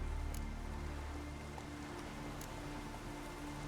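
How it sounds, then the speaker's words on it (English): Steady rain patters down in The Witcher 3 Wild Hunt, a soft constant hiss with a few sharper drops, fairly faint under a low ambient hum with no talk. "It's raining."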